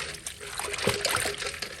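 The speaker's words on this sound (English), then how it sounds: "At this point, you can just squeeze out the water and then preserve in the freezer that way." Water squeezed by hand out of cooked amaranth leaves, a close wet trickle and dribble with small splashes running steadily for a couple of seconds.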